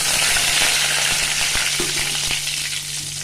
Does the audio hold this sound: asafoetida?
yes